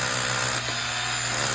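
A power drill bores holes in concrete for Red Head anchors at a solar array installation outdoors, a steady loud whining grind running continuously for the whole moment with no talk.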